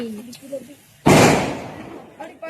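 A firecracker bursts with one loud, sharp bang that crackles and fades over a second, after a voice speaks nearby.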